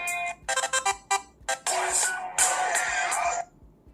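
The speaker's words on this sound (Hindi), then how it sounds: "यहाँ पे आपको मिलेंगे कई सारे ऑप्शंस रिंगटोन के" Ringtone previews play one after another on a Fire-Boltt Dream Android smartwatch, short bright electronic melodies in quick bursts, loud and close with no talking.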